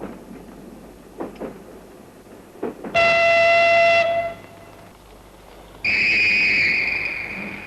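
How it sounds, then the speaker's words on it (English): A diesel rail car sounds two loud, sustained horn blasts, one lasting about a second and a later one that runs to the end, after a few soft knocks and thumps against a quiet background. "A diesel rail car."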